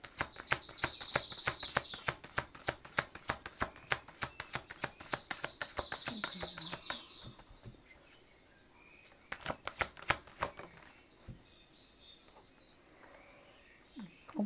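Tarot cards are shuffled in a rapid, crisp riffling flutter for several seconds, followed by quieter handling and a few snappy flicks as cards are drawn, close and clear with no talking.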